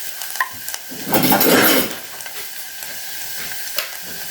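Onions frying in a mini rice cooker, with a brief burst of sizzle and stirring in the middle and quieter scraping and clinks before and after.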